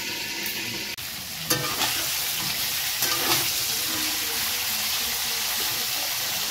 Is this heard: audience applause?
no